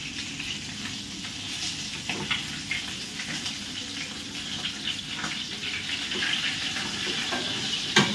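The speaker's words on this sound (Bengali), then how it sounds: "মাছ ভাজতে গেলে এত ছিটকায় চারিদিকে না, পুরো কিচেন নোংরা হয়ে যায়" Fish frying in hot oil in a home kitchen, a busy continuous sizzle with crackling spatters throughout, fairly close and without talk.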